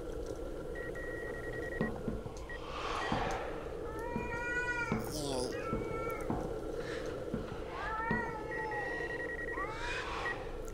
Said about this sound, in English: Oh god, the cats.